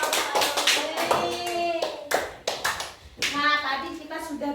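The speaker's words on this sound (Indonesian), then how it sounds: "Tepuk tangan buat kelompok 2" Schoolchildren in a classroom applauding a class group, a loud ragged burst of many small hands clapping in uneven waves, mixed with children's voices and chatter.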